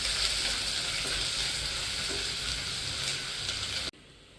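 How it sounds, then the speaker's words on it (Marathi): Chopped onion fries in hot oil in a cooking pot for a milk-based amti curry, giving a loud, steady, close sizzle that runs unbroken before cutting off abruptly near the end. "आता आपण भांड्यामध्ये तेल ओतून घ्यायचं आहे. त्यामध्ये कांदा घालून घ्यायचा आहे आणि मस्त असं भाजून घ्यायचा आहे चांगला."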